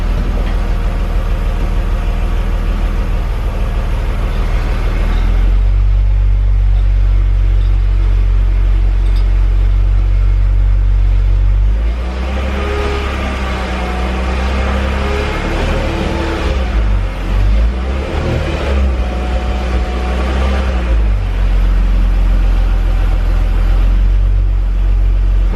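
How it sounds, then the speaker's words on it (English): A BMW E46 323ci on a stand after a 318i 3.91 differential swap, its drivetrain spinning the wheels: a steady low engine and driveline drone that shifts in pitch midway, rising and falling with throttle, loud and close with no talk. "spin up the wheels, and make sure there's no yucky noises."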